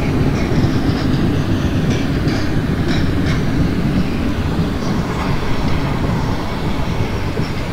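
An Indian passenger train on the Bhusaval–Katni run in the MSTS Open Rails simulator rolls along with a steady loud rumble and rhythmic clickety-clack of wheels, faint squeals here and there, no voices.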